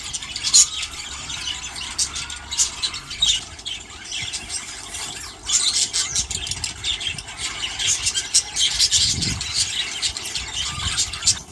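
Budgerigars in a breeding aviary flight, a busy mix of squeaky chirps and squawks from many birds, fairly close and continuous, with a low engine-like rumble in the background.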